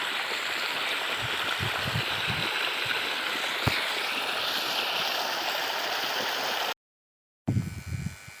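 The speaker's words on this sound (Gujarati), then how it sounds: "પાણી આવે છે, લાઈન છે, અડધું પાણી અહીંયા છે અને અડધું પાણી અહીંયા આવે છે" Irrigation water rushing steadily through a channel into a peanut field at a farm well, a continuous close gurgling flow, briefly cut to silence near the end and then resuming.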